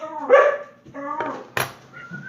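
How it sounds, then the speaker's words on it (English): Dogs barking in a few sharp, close bursts with a yip and whimper in between, mixed with a person's voice. "Dogs. Go. Outside."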